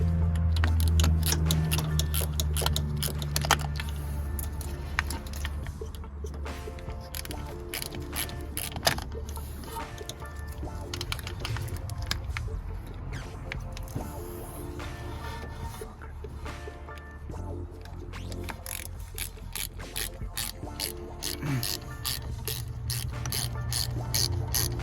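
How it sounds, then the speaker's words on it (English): Ratchet clicking steadily in quick bursts while snugging the rear brake caliper bolts on an Acura TLX, close and clear over a low background hum, with occasional pauses between runs. "Now we're just gonna snug up those 2 bolts that we just put in by hand."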